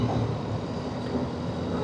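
A train runs on tracks passing overhead near the Limbangan ring road in West Java, giving a low, steady rumbling roar that stays constant through the short moment, with no speech.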